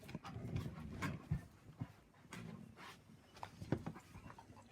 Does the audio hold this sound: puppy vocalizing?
yes